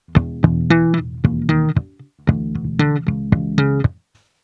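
Slap bass guitar with boiled strings, a run of sharp percussive plucked notes with bright attacks and ringing harmonic tones, played alone and close in two phrases separated by a short pause.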